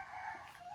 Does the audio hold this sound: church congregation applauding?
no